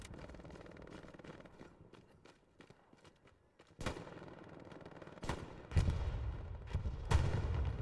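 Gunfire crackles through a competitive Rainbow Six style match on the Summit Valley map: sharp bursts of shots ring out, with heavier volleys around the middle and near the end, over low game ambience.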